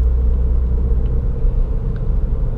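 Inside a 2018 Subaru WRX on a short drive, the engine gives a steady, low, droning rumble mixed with road noise, unchanging and close throughout.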